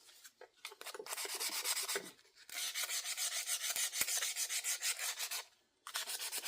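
Old metal hand tool being sanded by hand with 80 grit sandpaper toward clean metal, a close, loud, rhythmic rasping scrub in quick repeated strokes with brief pauses between bursts.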